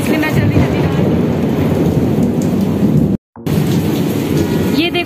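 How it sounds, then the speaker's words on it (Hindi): Heavy rain pours down in a dense, loud hiss with rumbling thunder rolling underneath, broken by a brief dropout before the downpour resumes. "ये देखो कितना तेज बारिश आ रही है"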